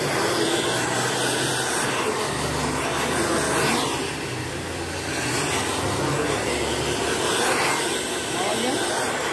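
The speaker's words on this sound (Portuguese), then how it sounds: "Agora eu pego aqui o secador." A hair dryer blows during a short layered women's haircut, a steady loud close-up roar lasting throughout, dipping slightly midway, with a voice talking over it.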